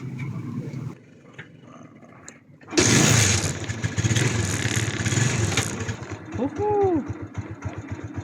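The engine of a tricycle motorcycle starts and then idles, a loud, rough, steady rumble that begins abruptly after a quieter stretch and runs with a fast pulsing rhythm. A voice talks over it.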